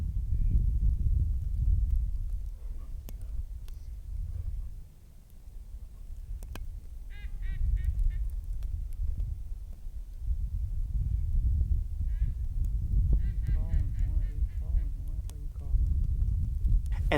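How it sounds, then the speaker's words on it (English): Several ducks and geese call in short quacking bursts over steady low wind rumble during a snowy duck hunt, the calls coming and going at moderate distance. "And the ducks work in so beautifully."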